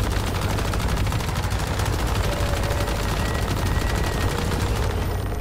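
Sustained rapid automatic gunfire from the video game Once Human, a dense unbroken stream of loud shots with no talking, close and constant throughout.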